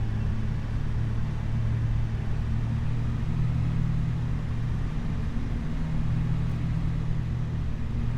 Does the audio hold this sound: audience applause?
no